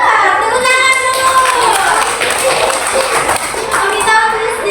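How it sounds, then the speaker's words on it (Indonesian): Elementary schoolchildren clap their hands together in a classroom, a dense, steady patter running throughout with children's voices mixed in. "Iya, tepuk tangan dulu."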